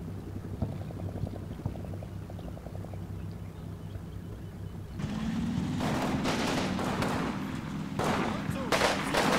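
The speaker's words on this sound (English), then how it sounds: "Yeah, they're just going to start shooting the general ground." Soldiers firing guns in a video game, quiet rhythmic distant bursts at first, then a louder stretch of rapid gunfire cracks over a droning hum in the second half, with a voice speaking.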